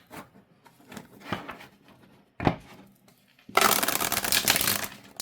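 A deck of Feminine Myths oracle cards is handled and shuffled up close, with soft scattered flicks and a sharp snap before a loud, continuous riffling rush of cards in the final two seconds.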